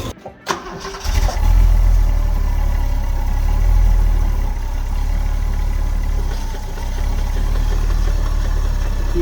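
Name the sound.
Holden VK Berlina engine idling roughly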